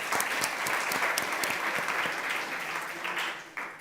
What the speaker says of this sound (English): Let's give the live stream watchers a round of applause.